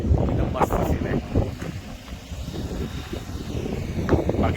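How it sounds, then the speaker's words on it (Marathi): Strong wind gusts by a creek on the Konkan coast between Alibag and Murud, with boats nearby, rumbling and buffeting the microphone while someone talks over it. "वारा सुद्धा सुटलाय खूप जोरदार."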